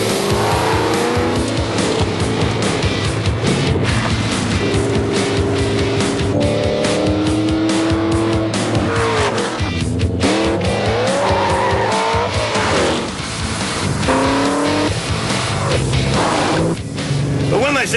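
A Ford GT road-going race car is driven hard, its engine roaring loud and close while tires squeal and skid through repeated rising and falling revs, with a voice talking over it.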